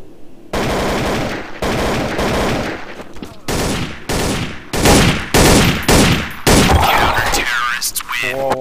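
Rapid machine gun bursts from the video game Counter-Strike on the de_dust map, loud and close, firing in repeated short volleys with brief gaps between them.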